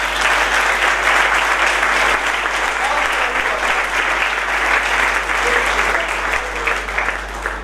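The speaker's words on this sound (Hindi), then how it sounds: "यीशु बादशाह के लिए जोरदार तालियां." A church congregation at a Palm Sunday Easter sermon breaks into loud, sustained applause, dense clapping filling the whole stretch at an even level over a steady low hum.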